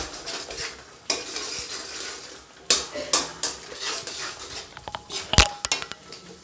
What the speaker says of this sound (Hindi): अब इसमें मैं 2 चम्मच क्रीम डालूँगी। इसे भी अच्छी तरीके से भुन जाने देंगे।